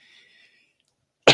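A single sharp, loud cough bursts out close to the microphone at the end, after a faint high tone fades into near silence.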